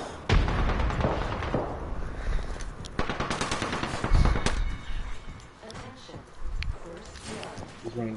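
Gunfire in the battle-royale video game Apex Legends cracks in bursts of rapid automatic shots with single reports between them, while a player talks over the action.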